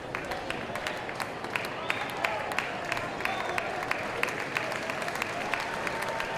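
A baseball stadium crowd at an LSU game cheers and claps in a steady, dense wash of noise, with scattered sharper claps and shouts rising through it, continuous throughout.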